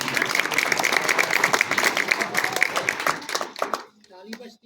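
An audience claps at a retirement speech: brisk, crowded applause keeps up for nearly four seconds, then drops away as a voice starts talking.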